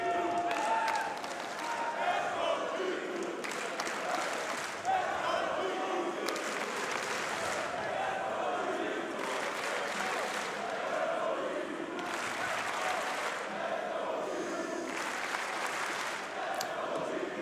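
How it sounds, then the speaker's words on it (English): A stadium crowd at the BLAST R6 Munich Major esports tournament roars and claps for G2 in an overtime round of Rainbow Six Siege on the Skyscraper map. The cheering swells in repeated waves, and a caster talks over it. "the crowd starts to make its noise in favor of G2 to steer them home here on Skyscraper"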